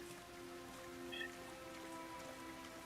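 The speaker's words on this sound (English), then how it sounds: "Oh yeah, I love the rain" Rain effect in the video game Unicorn Overlord, a steady soft patter of raindrops on a surface, faint and even throughout beneath a quiet tonal background drone.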